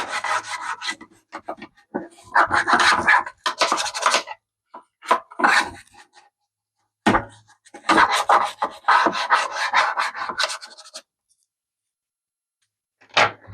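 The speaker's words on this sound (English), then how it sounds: "let's get the scrub with the scrubby brush first" A stiff scrubby brush scrubbing inside the casing of a Magnavox Odyssey 3000 game console, with close, loud raspy strokes in repeated bursts separated by pauses, and no talk.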